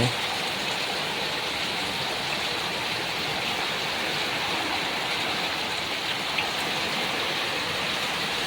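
Heavy rain hisses continuously without pause on a tin roof, a dense, even wash of drops pattering on the hard metal surface.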